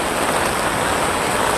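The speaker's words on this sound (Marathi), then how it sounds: "पाऊस किती आहे" Steady rain pours down on a busy day out in town, a dense, even hiss that fills the whole stretch without a break and with no voices.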